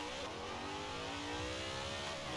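A Zenvo TSRS in Forza Horizon 4 launches off the line in a drag race, its engine revving high in a steady, loud, continuous roar with rising pitch as it accelerates.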